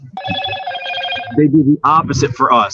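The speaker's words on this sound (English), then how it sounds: "I think that's my phone ringing." A mobile phone rings with a steady tonal ringtone that sounds for over a second at close range, then breaks off as people start talking over it.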